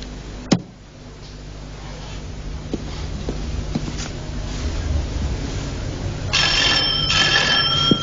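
An electronic telephone rings close and clear in an indoor scene, short trilling bursts arriving over a low room hum near the end after a sharp knock earlier.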